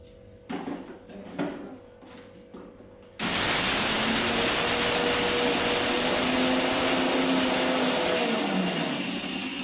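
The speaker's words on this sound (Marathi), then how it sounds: "सगळ्यात आधी आपण हे तांदूळ दोन चमचे तांदूळ लाटसर वाटून घ्यायचे आहेत" A mixer grinder coarsely grinding two spoons of rice: after a few soft handling clatters, the motor kicks in with a loud, steady whirring roar that holds without pause to the end.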